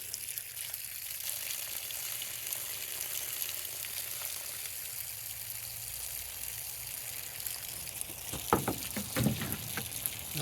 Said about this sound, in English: Getting rid of the muddy water.